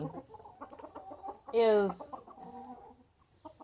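Chickens that have just started laying eggs, clucking close by in short bursts, with one louder squawk in the middle and a voice talking briefly.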